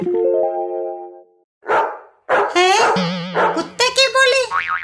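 A girl imitates a dog barking with her voice, a few loud close yelps and woofs in quick bursts, mixed with playful pitched vocal sounds.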